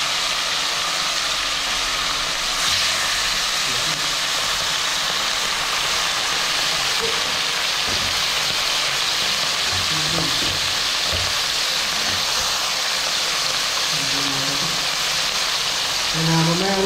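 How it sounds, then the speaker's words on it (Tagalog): Fish frying in hot oil in a pan give a steady, close sizzle throughout, with occasional clinks and soft background sounds and little talk. "Prito na po tayo mga toto."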